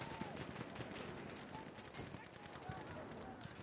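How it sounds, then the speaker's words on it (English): Machine gun fire rattles in rapid, continuous bursts in a Battlefield match, faint and dense beneath a busy battle din, with a voice talking over it. "Oh, ran right into those machine gun bullets."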